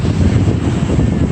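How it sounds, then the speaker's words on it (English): Airplane flying over an ocean beach, a steady low engine rumble mixed with wind buffeting on the microphone, loud and continuous for the whole moment. "You see airplane"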